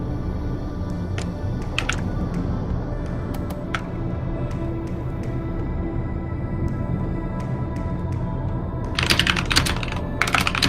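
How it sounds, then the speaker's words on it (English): Aggressive, fast typing on a computer keyboard, with sharp clustered key clacks that grow denser and harder toward the end, heard through a low-quality mic over a steady background hum. "Aggressive typing."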